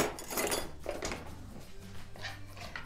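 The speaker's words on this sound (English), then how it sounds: "we are going to combine all of the ingredients together" A utensil clinks and scrapes against a bowl while water, cornstarch and sauce ingredients for honey garlic wings are stirred together, in close, quiet, irregular taps.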